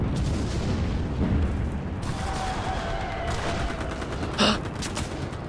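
Gunfire in the infantry shooter Enlisted, with dense overlapping shots and booms over a constant rumble of battle, plus one sharper crack near the end.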